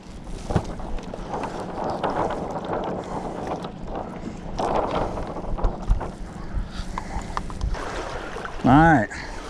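A Hobie Adventure Island sailing kayak drifts with no daggerboard down. Wind buffets the microphone and water laps and swishes around the hull, a voice speaks briefly, and a short rising chirp sounds near the end.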